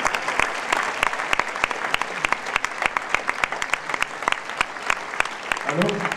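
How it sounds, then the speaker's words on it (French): A theatre audience at a film premiere claps continuously, dense and steady with sharp individual claps standing out, and a voice begins speaking faintly at the very end. "Vous pouvez l'applaudir."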